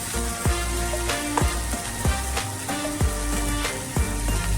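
Steady sizzling as coriander powder fries in a pan with onion and tomato, with repeated scraping strokes of a spoon stirring at an even pace, close up.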